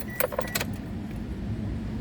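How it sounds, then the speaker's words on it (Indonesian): Keys jangle in a quick metallic burst as they are turned in the ignition of a 2012 Daihatsu Terios 1.5 TX Adventure automatic, followed by a low, steady hum from the car. "Coba kita nyalakan sekarang mobilnya ya"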